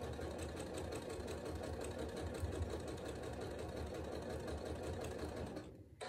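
A sewing machine runs fast and steady, stitching log cabin quilt table runner units with a continuous rapid mechanical whir. It slows and stops just before the end.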